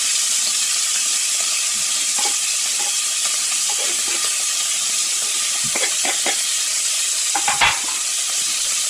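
Onions and small diced carrots sautéing for a sausage risotto, a steady sizzle and hiss throughout with scattered scraping stirs of a wooden spoon, a louder clatter near the end.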